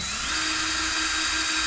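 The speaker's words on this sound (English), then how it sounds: "Start taking off the screws." A power drill whines steadily at close range while backing screws out of a subwoofer enclosure, one continuous run with a slight pitch rise early on.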